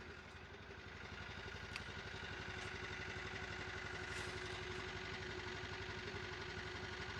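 An older car engine with about 131,730 miles and a broken piston idles steadily after starting right up, a low, even, faintly clattering rumble heard alone at moderate volume.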